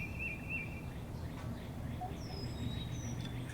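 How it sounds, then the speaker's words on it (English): Faint bird chirps and a few high whistled calls come and go over a steady low outdoor rumble, with no talking. "Listen to the birds chirping."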